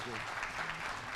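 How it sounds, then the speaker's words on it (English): A conference audience claps for a speaker in a short, dense burst of applause, with a voice briefly audible over it. "Please give a round of applause for Ken."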